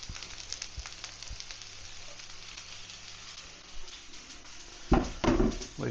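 Spring onions and capsicum hit a hot pan, with a sudden loud burst of sizzling near the end following quieter kitchen background and a couple of light clinks.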